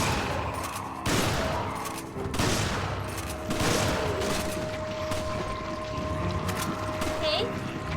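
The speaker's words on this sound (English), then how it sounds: "she keeps shooting me" Sheva firing her gun in Resident Evil 5, a barrage of repeated sharp shots over game noise and a steady tone, with a voice talking over the shooting throughout.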